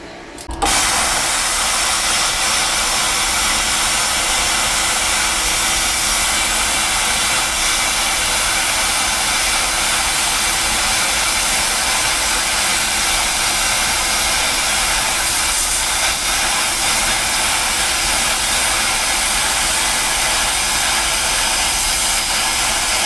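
A 55 amp plasma cutter slices through quarter-inch steel plate with a loud, constant roaring hiss that starts abruptly and holds steady for over twenty seconds, with no voices.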